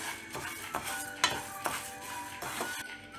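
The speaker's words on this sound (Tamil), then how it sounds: "பாசி பருப்பை இதல ஆட் பண்ணிட்டு நல்லா வறுத்துக்கணும்" Moong dal dry-roasting in a pan, with repeated scraping stirs and light metallic clinks of a spatula against the pan at an uneven rhythm, close and moderately quiet.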